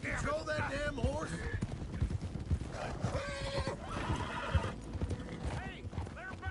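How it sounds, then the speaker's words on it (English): A horse in Red Dead Redemption 2 gallops with rhythmic clip-clop hoofbeats and lets out repeated loud neighs and whinnies, while voices talk over the game sound. "Can't you control that damn horse?"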